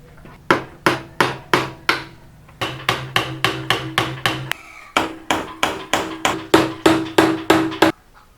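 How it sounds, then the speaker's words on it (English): Hammering special nails to fasten chicken coop wire: about twenty sharp, ringing blows in quick even runs, separated by two short pauses, loud and close. "So I use like these special nails to attach this."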